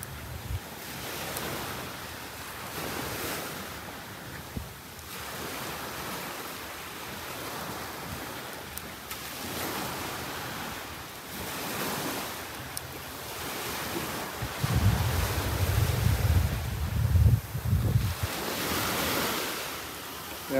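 Small waves washing onto the shallow beach shore at Station 1, Boracay, a continuous soft surf wash with gentle swells and light wind buffeting the microphone, growing louder near the end, no talk.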